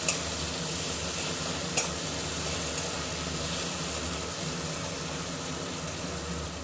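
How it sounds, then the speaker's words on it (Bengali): Sliced onions fry in hot oil until golden brown for chicken rezala, giving a steady, even sizzle throughout with a couple of sharp clinks from the utensil near the start. "ভালো করে ভেজে পেঁয়াজ বেরেস্তা করে নেব। ভাজা পেঁয়াজ লাল করে ভেজে তারপরে পেঁয়াজটাকে তুলে নেব।"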